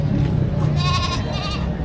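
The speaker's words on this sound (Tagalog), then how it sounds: "Mga pang-alagang kambing." Goats bleat close by at a livestock auction in Padre Garcia, Batangas, a couple of wavering, nasal calls over a low background hum.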